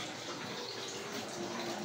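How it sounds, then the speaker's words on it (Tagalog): Tap water runs in a steady, even gush as it fills a container at home, continuous throughout with no talking. "puno na yung tubig."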